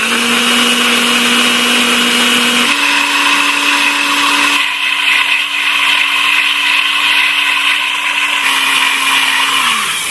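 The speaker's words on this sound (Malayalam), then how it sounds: "ഇനി കുറച്ച് പാൽ ഒഴിച്ച് നമുക്കിതൊന്ന് അടിച്ചെടുക്കാം" A kitchen mixer whirs loud and steady, blending mango juice with about 350 ml of milk, ginger and turmeric, its motor pitch shifting slightly partway through before easing near the end.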